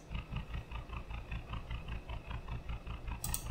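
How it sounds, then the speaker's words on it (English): A looping car engine sound cue played back in Unreal Engine 5, a low rhythmic idle-like rumble pulsing evenly throughout, ending with a brief sharp high click. "So I have already imported this engine loop cue, so which has three different sounds like this"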